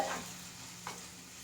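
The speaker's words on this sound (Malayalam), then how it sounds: "തക്കാളി അങ്ങോട്ട് ഇട്ട് കൊടുത്തു ഇനി നന്നായിട്ട് ഒന്നിങ്ങോട്ട്" Tomatoes and onions in a frying pan give a soft, brief stir and faint sizzle, one quiet scrape standing out near the end against low background hum.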